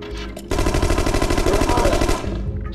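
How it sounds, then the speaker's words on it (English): Rapid automatic gunfire from the shooter game The Conduit, a loud, sustained burst of closely spaced shots lasting about two seconds over a low rumbling backdrop, ending abruptly. "I'll just shoot that way and hit whatever goes in the way"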